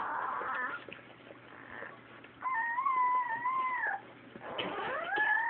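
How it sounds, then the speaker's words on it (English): A mother dog whimpers and then lets out long, wavering howls with a bark among them, close and fairly loud, with rising and falling cries coming in two main bursts separated by a short quieter gap. "Uh-oh, we got a little bark."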